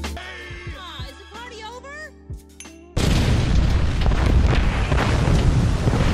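In the animated film Finding Nemo, underwater bombs detonate after a torpedo sets one off: tonal tones and bubbly sounds give way to a sudden, loud, roaring explosion that rumbles on for several seconds.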